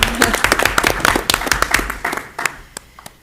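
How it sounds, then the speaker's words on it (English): Clapping from the audience at a board of education meeting as a new middle school principal is called to the podium; a brisk burst of close, distinct hand claps that thins out within a few seconds. "clap for Tara"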